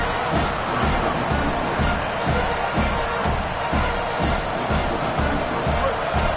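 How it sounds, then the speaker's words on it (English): Football stadium crowd at an Ohio State vs Arizona game roars continuously, a dense, loud wash of cheering and noise with a pulsing rhythm, as if chanting or stomping to disrupt the offense. "This crowd trying to make life miserable for this offense."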